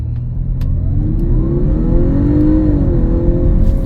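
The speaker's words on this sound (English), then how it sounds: "you can't just floor it and it does it, because you're spooling up the turbo when you're brake boosting it" An Audi A5 Sportback's turbocharged engine is loud and close while revving during a brake-boost launch, its drone climbing and holding with a rising whine as the turbo spools, with no voices.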